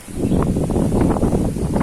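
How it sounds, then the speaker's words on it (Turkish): Gusts of wind blow across the microphone outdoors during a run, giving a steady rough rumble with brief rustling surges and no talking. "bir dakika rüzgar çıktı"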